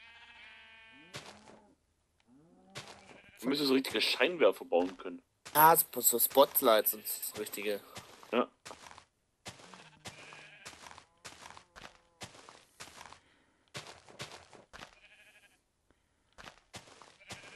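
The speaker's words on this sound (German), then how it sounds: "Oh, hier sind ein paar Schafe." Several short sheep bleats rise and fade amid Minecraft game sounds, while two people chat in German over them throughout.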